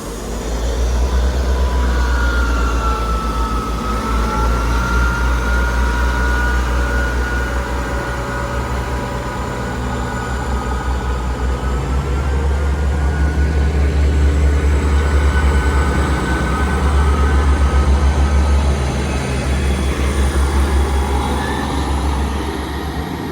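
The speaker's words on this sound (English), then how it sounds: "Train now departing is a double 158 going to Norwich." A double Class 158 diesel unit pulls out of the station toward Norwich, a steady low engine rumble and rolling hum that rises and falls over the whole stretch without anyone talking.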